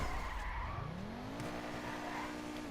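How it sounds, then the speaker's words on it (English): A car in GTA V drifts with loud, sustained tire skids and squeals over a steady engine roar, rising in pitch partway through and holding close and continuous. "There's also really good for drifting, as I can show you here."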